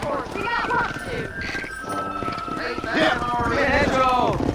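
Horse hooves clip-clop in the Red Dead Redemption video game, a rhythmic run of hoofbeats moving under frequent character dialogue and background game sound.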